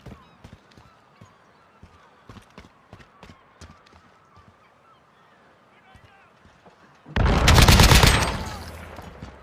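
Bursts of AK-47 fire in Call of Duty Modern Warfare 2 come as a short, loud volley near the end. Before it, speech and scattered clicks and taps.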